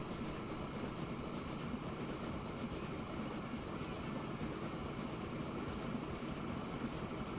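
A train rolling past in the Transport Fever 2 railway game, a steady, even rumble of wheels and carriages that holds at a constant moderate level throughout, with no voices.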